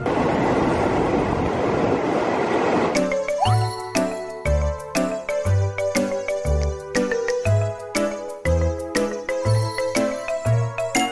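A commuter train pulls into a station near Duri in Indonesia: a bright chime of ringing tones over a steady run of rhythmic, heavy wheel clacks, close and loud, with no voices.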